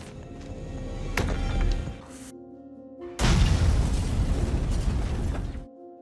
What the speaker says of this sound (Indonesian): Alhasil, ledakan hebat pun terjadi